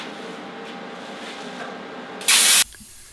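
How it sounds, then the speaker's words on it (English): A plasma cutter slices through diamond plate steel in a garage, producing a steady, close hiss throughout, with a sudden loud burst of harsh high hissing air near the end before it cuts off. "it's a little bit difficult, I found out, cutting diamond plate with a plasma cutter"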